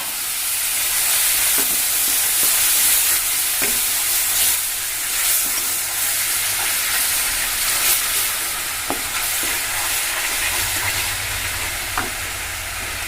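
Water poured into a hot pan of chocolate syrup on a gas stove hisses and sizzles loudly and continuously, with a few faint clicks of stirring and no voices.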